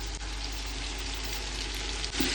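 Green chilies, ginger garlic paste and turmeric fry in a pan with a continuous close sizzle and crackle, steady and fairly loud from start to finish, with no talking.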